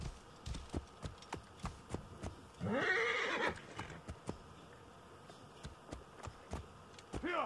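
Horse in Assassin's Creed Origins crossing the Desheret Desert, with steady clip-clopping hooves throughout and one loud drawn-out neigh near the middle, no voices.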